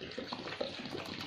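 Water pours steadily onto rice and lentils soaking for appam batter in a home kitchen, a soft continuous splashing trickle with no talk over it.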